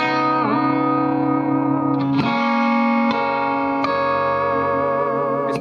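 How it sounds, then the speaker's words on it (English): Electric guitar through a switched-on compressor pedal, a few picked notes ringing out with long, even sustain, each attack followed by a smooth, unbroken tail, loud and close with no talking. "I can get extra sustain and extra dynamics from the guitar with the compressor pedal."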